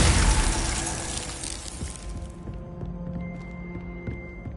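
A Glacius freezing spell in Hogwarts Legacy bursts loudly, then thins into a fading, ringing icy shimmer with sustained bright tones.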